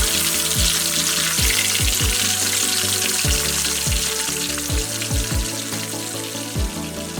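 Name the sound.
tonkatsu pork frying in oil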